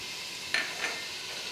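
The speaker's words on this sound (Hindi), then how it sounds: "और इसको अच्छे तरीके से और मज़ीद भून लेंगे" Salt, turmeric, garam masala, red chili and coriander powders frying into a masala for bhindi gosht, a short burst of steady hissing sizzle with a couple of quick stirring scrapes.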